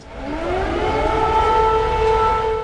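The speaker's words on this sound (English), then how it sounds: "Well, the sirens are blaring once again." Civil defense air raid sirens wailing loud and steady, with a rising tone that holds at a sustained pitch, alone with no voices.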